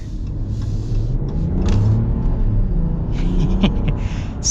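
A 2025 Ram 1500 Laramie pickup truck accelerating, its engine a steady, smooth low rumble that swells gently and stays close, heard from inside the cab with no talking.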